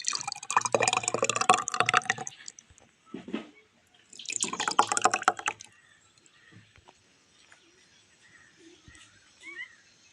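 Liquid poured in two close, splashy bursts with a brief trickle between, followed by a quieter stretch of scattered drips and small clinks.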